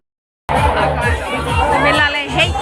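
A dense crowd at the Godda fair (mela) fills the air with close, continuous babble, overlapping voices and occasional children's shouts, steady and loud throughout.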